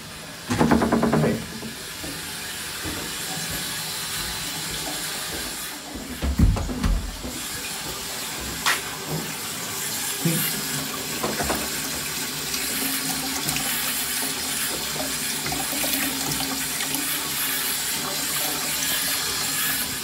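A toilet cistern refills with water in a property being viewed, starting with a gurgling rush and settling into a steady hissing trickle that runs on close by.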